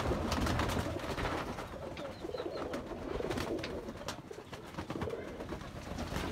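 Highflyer pigeons coo in a continuous soft murmur, several birds overlapping in low rolling calls that stay close and steady throughout, with a few faint chirps mixed in.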